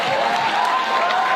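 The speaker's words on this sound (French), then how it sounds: "On applaudit, bravo." Audience applause in a comedy venue, a dense steady wash of clapping from a crowd, sustained and fairly loud throughout.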